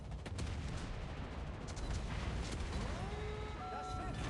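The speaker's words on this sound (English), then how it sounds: "I take down the Ranger with a final Citadel salvo" Naval gun salvo in World of Warships, a German carrier battle against the Ranger: muffled rolling booms and rumbling explosions, fairly faint, with a rising whine and tonal game effects toward the end.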